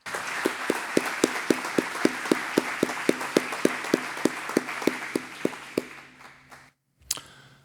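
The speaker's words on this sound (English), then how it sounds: "Could we have a round of applause for Governor Gregoire?" Audience at a regional innovation forum giving a round of applause, a rhythmic run of sharp, fairly close claps, loud at first and tapering off before a brief silence and a final bump.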